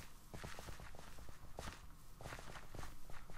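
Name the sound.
running footsteps in Minecraft video game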